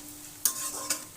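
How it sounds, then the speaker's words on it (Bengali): Onions frying in a pan for a palak chana dish, a soft steady sizzle with two sharp scraping strokes of a spoon stirring them. "2-3 মিনিট ধরে নেড়ে চেড়ে নেব, পেঁয়াজটা নরম হওয়া না পর্যন্ত"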